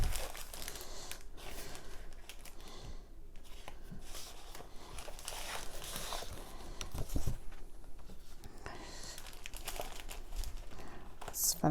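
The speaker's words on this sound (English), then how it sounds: "Let me grab a piece of Gray Granite paper too while I'm at this here." A sheet of Gray Granite cardstock paper is handled and shuffled, giving soft crinkling, rustling and sliding sounds in irregular bursts, close but fairly quiet, with no talking.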